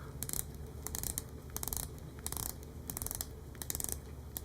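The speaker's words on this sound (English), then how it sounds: "On the inner side, you have a 60-click bezel." A 60-click ceramic dive watch bezel is turned in bursts, producing quiet, rapid ratcheting clicks in short runs separated by brief pauses, close up.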